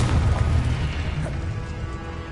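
A Confringo fire spell explodes in Hogwarts Legacy, a sustained loud blast with deep rumbling low end that stays heavy across the whole moment, with no talk over it.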